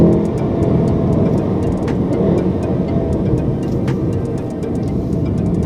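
A Volkswagen Golf R MK7 with its 2.0 engine and six-speed DSG pulls hard from low revs, a steady loud cabin rumble under faint repeated ticking clicks.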